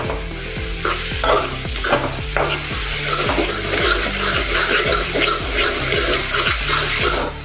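Spices being stirred in a hot pan, with loud, steady sizzling throughout and repeated scraping strokes of the spoon at a regular rhythm, up close and without talking.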